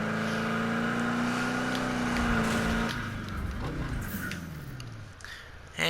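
A car drifts in a steady engine drone that shifts in pitch midway as the tires let go, easing off toward the end.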